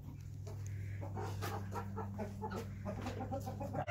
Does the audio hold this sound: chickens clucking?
yes